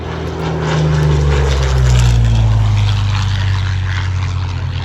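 A Supermarine Spitfire roars past at an airshow, its propeller engine drone loud and steady and swelling slightly as it passes close, with a low tone that shifts downward.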